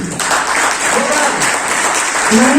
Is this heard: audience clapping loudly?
yes